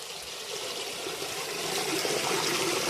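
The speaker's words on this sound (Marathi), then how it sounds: "इथं एक झरा आहे" Spring water flowing steadily beside a house near rice fields below Kalsubai peak: a constant, fairly close broadband rush and trickle that swells slightly louder toward the end, with no voices.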